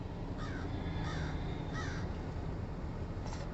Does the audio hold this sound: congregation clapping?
no